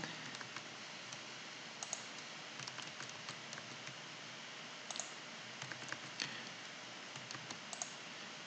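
A few faint, scattered clicks come from a computer keyboard as keys are pressed, quiet over a steady background hiss.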